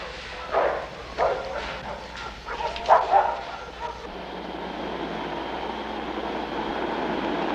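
Several dogs barking in short bursts, a few sharp clustered yelps standing out over a steady background rumble that grows into continuous noise.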